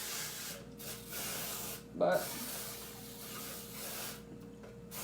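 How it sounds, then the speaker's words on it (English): A single short burst of canola oil cookie spray into a baking pan, a quick close hiss under quiet room tone, with someone speaking briefly around it. "I'm just gonna spray my pan. I'm using cookie spray."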